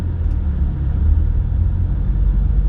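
Car engine rumbling steadily from inside a vehicle waiting in a line of traffic, a low continuous drone with no voices.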